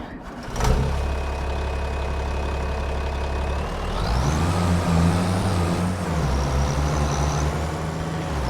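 A big tractor engine in Farming Simulator 25 runs steadily at close range, a low idle rumble that rises in pitch and revs up partway through, then settles into a heavier working drone, with no talking over it.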